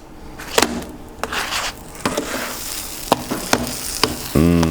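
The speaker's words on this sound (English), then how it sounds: "Just hear that sizzle." Cheesy food sizzles and crackles in a hot pan nearby, with sharp scraping and clacking from a utensil stirring or flipping at intervals.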